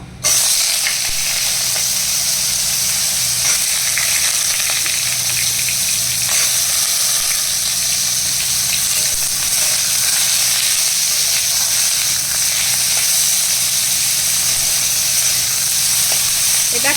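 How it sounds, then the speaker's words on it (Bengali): Panch phoron and dried red chillies crackle and sizzle in hot oil in a Bengali home kitchen, a loud continuous hiss of frying that stays close and steady throughout. "এবার তেলের মধ্যে পাঁচ ফোড়ন আর শুকনো লঙ্কা ফোড়ন দিলাম"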